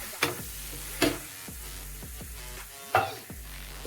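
Kothu parotta with kurma added sizzles on a hot griddle while being stirred and chopped, steady frying hiss broken by several loud metal clanks and scrapes at an irregular pace, close by.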